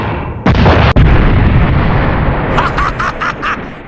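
A cannon fires from a secret tower in an anime, a loud booming blast that opens with a sharp onset and rolls on in a sustained roar, followed by a second hit and a spray of crackling bursts.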